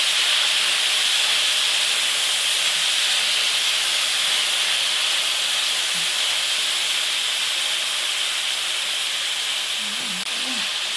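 Tomato, garlic and scallion sautéing in a pan for Jamaican brown stew fish, a steady loud sizzle and hiss throughout, with brief faint voices in the background.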